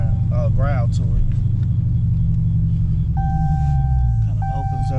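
A deep, rumbling exhaust growl from a 2019 Dodge Challenger Scat Pack with a new engine tune holds steady and close, with someone talking over it and a couple of beeping tones near the end.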